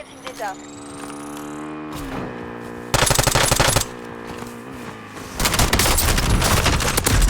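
Gunfire in the video game Warzone includes a shotgun. Loud, dense bursts of rapid shots are set against a sustained background hum, with a player talking throughout.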